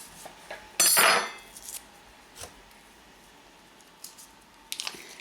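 Flour scooped by the cup for homemade biscuits, three cups in all: a loud metal clatter of cup against bowl, then a few small taps and clinks close by, with no talk.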